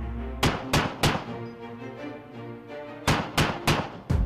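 An XM913 50mm Bushmaster chain gun fires during a live-fire demonstration at a user conference in Kingman, Arizona: two bursts of three heavy, evenly spaced booming shots, with a pause between them.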